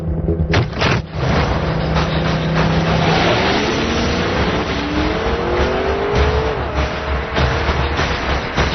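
A car drives close by with a loud engine note that rises in pitch as it accelerates through the gears, together with tire and road rumble.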